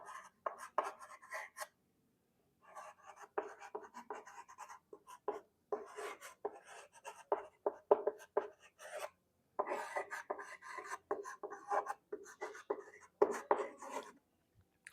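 Chalk or marker scratching on a board during a semiconductor electronics lecture, coming in quick bursts of strokes separated by short pauses, close and clear, with no talking.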